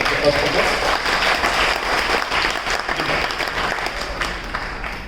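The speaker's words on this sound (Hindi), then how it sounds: "तो इनके लिए जोरदार तालियां पहले" Loud, dense applause from an audience at a business training event in Gurugram, with many hands clapping at once, close and sustained, and voices mixed in.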